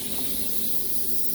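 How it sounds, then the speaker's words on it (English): Water and air hissing out of open RV plumbing lines under bike-pump pressure, a steady, close spray with no break. "And you see that water spraying out?"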